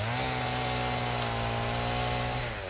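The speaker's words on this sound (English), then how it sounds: "then I hear a chainsaw" A chainsaw cutting wood in a video game, a loud steady engine drone that holds constant for the whole stretch with no talk over it.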